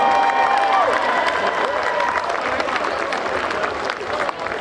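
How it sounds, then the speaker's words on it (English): An audience at the Toronto Ukrainian Festival gives a choir a loud, sustained round of applause mixed with crowd cheering, fading slightly toward the end. "Let's give them one more round of applause."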